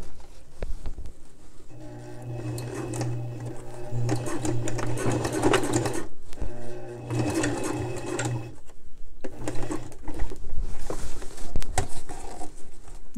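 Domestic sewing machine running a straight stitch at length 2.5, sewing elastic into a garment, in two long steady whirring runs with a shorter burst after, close and clear with fabric handling noise between runs.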